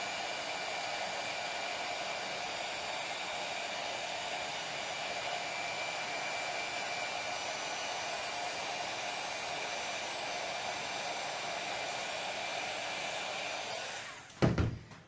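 A hair dryer blows steadily and loudly on mixed media paint for about fourteen seconds, a constant broadband whoosh that shuts off with a brief clatter at the end.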